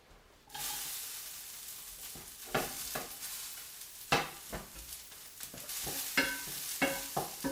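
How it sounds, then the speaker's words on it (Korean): Carrots stir-fried in a lightly oiled, preheated pan, a steady sizzle starting after a brief quiet moment, broken by repeated scraping clacks of a utensil stirring and tossing the pieces. "당근은 살짝 말랑말랑 노곤노곤해질 때까지만 볶고"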